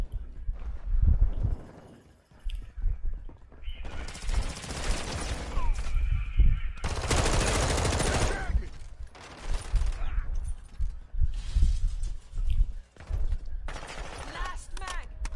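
Bursts of automatic gunfire crackle in a shooter video game, loud rapid volleys alternating with short pauses and softer mechanical clicks, with a player talking over parts of it.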